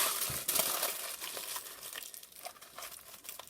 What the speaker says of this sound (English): is crumple this up into a ball